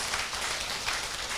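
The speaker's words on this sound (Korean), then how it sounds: "여러분들 스스로 박수를 한번 쳐주세요" Audience applause at a talk on the path to success, a short stretch of steady, dense clapping filling the room at moderate volume with no speech over it.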